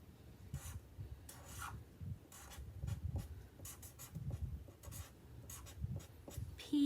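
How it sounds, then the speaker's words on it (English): A pen scratching across paper in short strokes and bursts, close up and fairly quiet, with brief pauses between words as something fun is written in casual handwriting. "And then you can write something fun,"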